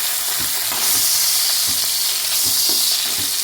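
Green kanthari chilies fry in hot oil in a covered pan, giving a loud, steady sizzle and crackle with soft popping throughout and no voices.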